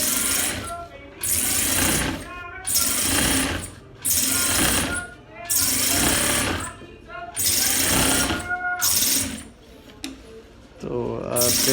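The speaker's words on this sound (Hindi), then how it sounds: "अभी जो कॉलर के ऊपर से हम सिलाई करते हैं नॉर्मल" Electric sewing machine stitching along the collar of a men's suit, running in repeated bursts of rapid loud stitching separated by short pauses, with a voice talking in between.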